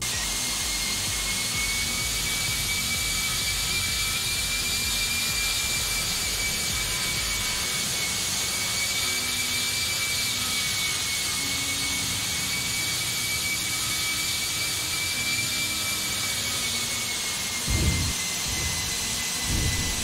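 Simulated Airbus A319 jet engines with reverse thrust roar in X-Plane 11, a loud steady whine and rumble held throughout the landing. A few low thumps come near the end.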